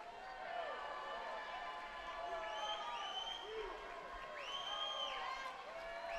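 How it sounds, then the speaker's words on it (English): Crowd at the Patriot League swimming championship finals cheering continuously, with whoops and whistles rising in bursts over a steady echoing roar inside the pool hall. "Crowd continuing to cheer"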